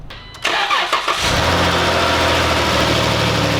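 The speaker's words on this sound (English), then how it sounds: "So we've now had the engine running for about 4 or 5 minutes" A Dodge Grand Caravan 3.6 V6 engine cranks and fires after an oil pan replacement and oil change, a few clattering starter turns giving way to a loud, steady, close idle hum.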